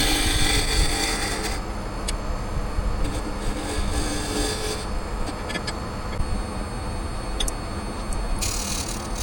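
A round carbide tool turns scrap wood on a lathe, making a steady, dense scraping whir with constant grinding texture and a few faint higher clicks, continuous throughout without talk.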